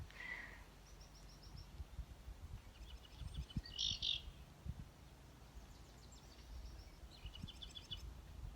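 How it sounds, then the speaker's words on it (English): Bullock's orioles chatter in a county park, giving short, scattered bursts of high chirps and rattling calls that come and go over a quiet outdoor background. "They're also making that chattering noise, these bullock's orioles."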